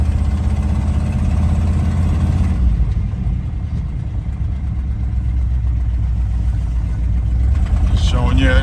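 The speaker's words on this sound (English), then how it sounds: "We're driving our 75 K10." A 1975 Chevrolet K10 truck engine runs steadily while driving, a loud, continuous low rumble with road noise throughout and a brief rise in pitch near the end.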